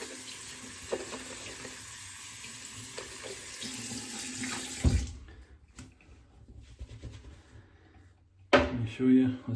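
A tap runs steadily into a sink while a double-edge safety razor is rinsed under it, a close, constant hiss of water that stops partway through, followed by clunks and handling noises.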